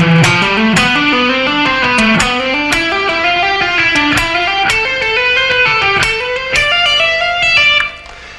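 A fast legato rock lick on distorted electric guitar, with hammer-ons and pull-offs running steadily across the strings for about eight seconds, loud and close before a sudden stop.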